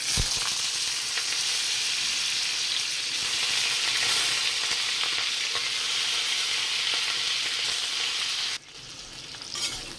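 Potatoes frying in a tempering of dried red chili and dried fenugreek leaves, a loud steady sizzle with stirring that drops off sharply near the end, then a softer crackle.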